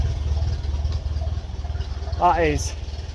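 A 1951 Ferguson tractor engine idles with a steady low rhythmic chug, close by, while a voice speaks briefly over it near the end.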